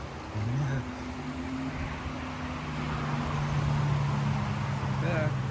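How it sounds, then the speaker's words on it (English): Cars pass by a creek in December, a steady rush of traffic noise swelling in the second half, with faint tonal engine whines and some talk mixed in. "Loud cars."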